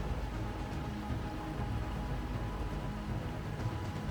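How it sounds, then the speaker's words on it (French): Light rain pattering steadily in a canyon with a low rumble of distant thunder, a continuous soft wash of drops with no voices. "il commence à pleuvoir quelques gouttes dans le canyon et le tonnerre gronde au loin"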